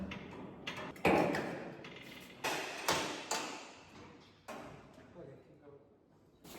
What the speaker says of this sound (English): You're just kind of tapping the base of those bolts where they're in the track of the pontoon